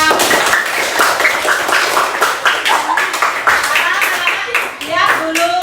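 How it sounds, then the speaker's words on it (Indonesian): Children in a classroom clap together, a dense steady patter of many hands with lively voices and shouts mixed through it throughout. "Tepuk tangan untuk kita semua."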